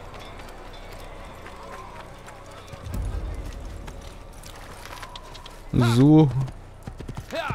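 Horse hooves galloping in the Assassin's Creed video game, a soft rhythmic clip-clop under game ambience, followed by a brief loud whinny-like burst near the end and a short spoken word.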